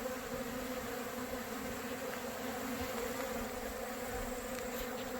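Honey bees robbing at the entrance of an empty hive box, their dense steady buzzing hum filling the air continuously and close, with no talking.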